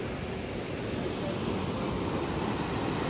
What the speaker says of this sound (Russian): Все, мы дошли до водопада.